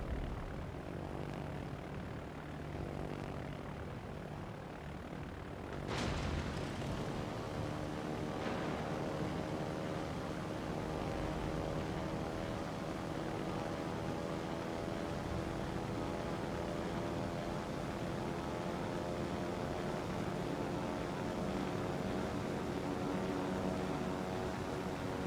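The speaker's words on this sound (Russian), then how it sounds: "Истребитель взлет произвел." Fighter plane taking off from an aircraft carrier in the naval game World of Warships: a steady propeller engine drone holds throughout, with a sharp burst near six seconds, and no talking.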